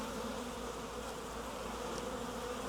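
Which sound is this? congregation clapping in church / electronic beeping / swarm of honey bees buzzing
swarm of honey bees buzzing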